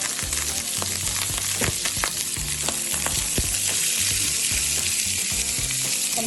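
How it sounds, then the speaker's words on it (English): Celery hits hot olive oil in a skillet and sizzles loudly and continuously up close, with occasional stirring clatter and no talking. "I'm going to add in the olive oil, followed by my celery"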